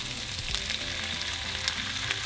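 Green chile frying with onions and serrano peppers for a burrito filling, a constant loud close sizzle with faint stirring clicks throughout, no voices.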